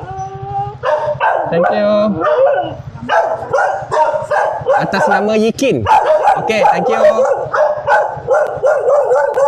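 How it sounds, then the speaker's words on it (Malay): Several angry dogs bark loudly and continuously at a gate, with yips and snarls rising in bursts, while a person talks briefly over the racket. "Garang ni anjing dia."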